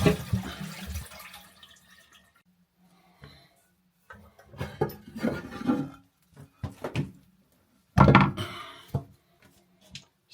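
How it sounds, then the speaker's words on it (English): A toilet flushed while a WC pan and cistern are being removed: a close burst of rushing water, then scattered gurgles, drips and clunks from the cistern, ending in another loud splash. "Now we can flush the toilet, and that should empty the majority of the water out of there."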